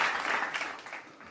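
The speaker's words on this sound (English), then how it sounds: "There's some applause buttons for you." Canned applause from a studio applause button on a radio show: a short, bright burst of clapping and cheering that fades over about a second, faint and alone.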